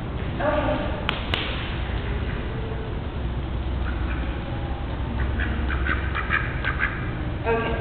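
A duck quacks a few times against a noisy outdoor background, with people chatting nearby.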